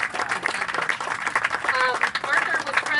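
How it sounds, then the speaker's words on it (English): Audience at a memorial event clapping, a moderately dense round of applause with individual claps audible and some voices mixed in. "Let's give a round of applause for that."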